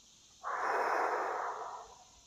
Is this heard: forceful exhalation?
yes